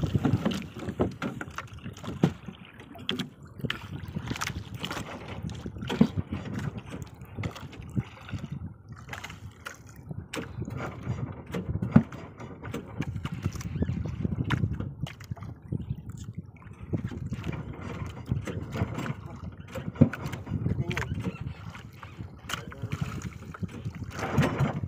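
A small boat's motor drones steadily with water sloshing and wind noise, a continuous low rumble throughout.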